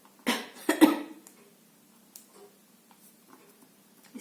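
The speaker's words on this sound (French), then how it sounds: "Excusez-moi, je tousse un peu." A person crafting a scrapbooking card coughs twice in quick succession, close and sharp, followed by quiet light tapping and handling noises.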